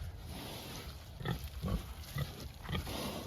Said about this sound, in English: Another orange pig, I guess.